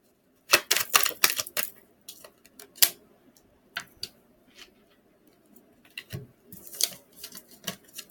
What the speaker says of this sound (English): I gotta shuffle these cards.